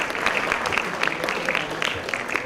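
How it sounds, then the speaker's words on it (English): An audience at the ISB Leadership Summit applauds Karan Johar, brisk, dense clapping from a large crowd filling the hall steadily for a couple of seconds. "One huge round of applause for Mr. Karan."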